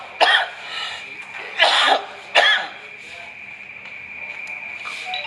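Three dry, harsh coughs close to the mic, spaced a second or so apart, followed by quiet room noise.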